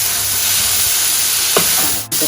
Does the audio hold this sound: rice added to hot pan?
yes